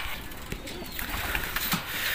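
Racing pigeons cooing in a loft after the first lap of a 2021 race in Cainta, Rizal, with soft low coos over a steady noisy background and a few sharper bird sounds, no talking.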